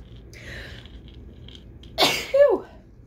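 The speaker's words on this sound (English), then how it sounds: "But oh my gosh, I have to sneeze." A single sharp, loud human sneeze erupts near the mic after a quiet pause, with a brief breathy intake before it, set in a casual indoor jewelry-haul session.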